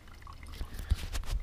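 Water dripping and trickling through a water filter rig hung from hiking poles on a trail, small close irregular drips with soft splashes over light outdoor hiss.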